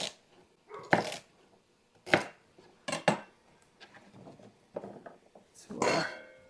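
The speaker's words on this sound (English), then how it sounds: "And we're just going to chop that into bite-sized chunks." Browned chicken is chopped into bite-sized chunks with a knife on a board, giving several sharp, irregular knocks spaced about a second apart, close up, with faint kitchen clatter between.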